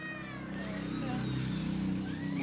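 Pet cats, some kept caged, meow repeatedly in a noisy room, their cries rising and falling under a steady low hum, close and moderately loud.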